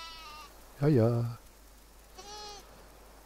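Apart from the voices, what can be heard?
sheep bleating in the video game Windborne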